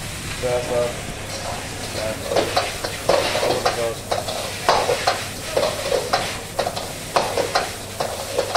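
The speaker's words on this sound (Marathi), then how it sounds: "नूडल्स बनवत येतो, कोबी कापलाय, चटणी घालते" Noodles with cabbage and sauce are stir-fried, with fast, repeated spatula scrapes over a loud, constant sizzle while a voice talks underneath.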